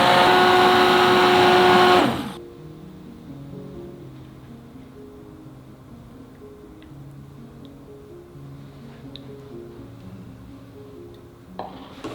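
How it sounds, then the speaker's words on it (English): An immersion blender whirs loudly through soup with basil for about two seconds, then stops abruptly, leaving a quiet background with soft tonal sounds. "I just use an immersion blender, or you can use a blender,"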